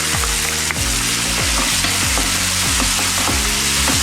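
Ginger garlic paste fries in a pan for tomato kurma, a steady close sizzle broken by regular scraping strokes of a stirring spoon roughly twice a second.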